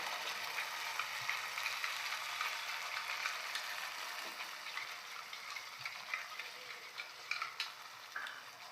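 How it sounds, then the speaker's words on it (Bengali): Eggs beaten with a little sugar and sour yogurt for steamed egg, a steady soft scraping, stirring texture that runs close and constant throughout, with no talking. "একটু চিনি দিয়ে দিলাম সামান্য এটাকে আমি ভালো করে ফেটিয়ে নেবো"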